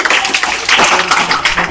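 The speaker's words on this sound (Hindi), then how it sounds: "हाँ, तालियां बजाओ, है ना?" Group clapping during a birthday honouring in a class, brief and fairly close, with a voice speaking over it.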